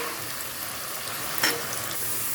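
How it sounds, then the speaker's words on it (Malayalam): Frying for chicken chukka in a pan, a dense, steady sizzle with a brief scrape of stirring partway through, close and continuous with no voices. "ഇളക്കി കൊടുത്ത് നമുക്കതൊന്ന് ഫ്രൈ ചെയ്തെടുക്കാം"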